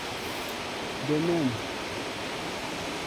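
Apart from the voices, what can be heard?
waterfall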